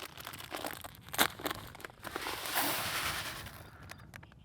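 Plastic bags of 2 mm fishing pellets are torn open and handled, giving crinkling, rustling plastic and a sharp rip, with a steadier rushing pour of pellets near the end, close by and fairly quiet.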